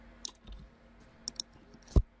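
A few sharp keyboard key clicks, close and quiet, as a Ctrl+dot shortcut is pressed on a computer, with scattered single taps separated by brief pauses.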